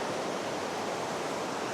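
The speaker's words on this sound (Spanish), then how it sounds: "Una pequeña cascada." A small waterfall beside a restaurant in Morocco gives off a constant, dense rush of falling water, even and unbroken, with no voices.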